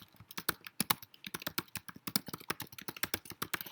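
Fast, steady tapping on a computer keyboard, heard close and fairly quiet, with many crisp, evenly spaced key clicks over a few seconds and no voices.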